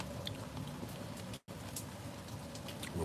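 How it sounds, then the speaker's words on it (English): Steady rain patters on surfaces outdoors in New York, a dense continuous hiss of drops with a momentary dropout partway through. "I love the rain"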